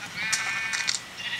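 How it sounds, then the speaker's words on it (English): Sheep bleating in the video game Minecraft, two or three short, close, bright bleats in quick succession, standing alone with no talk. "Hello, sheepy."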